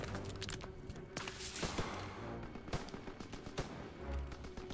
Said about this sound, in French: Je sais pas d'où il tire là.